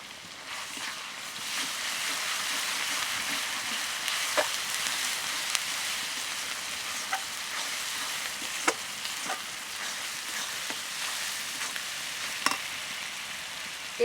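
Garlic paste and onion paste sizzle in hot spiced oil for a mutton dish, a soft steady frying hiss with small scattered pops and crackles, fairly quiet and close.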